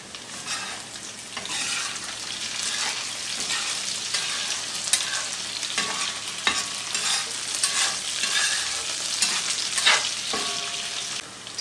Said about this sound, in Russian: Здесь у меня уже жарится картошечка.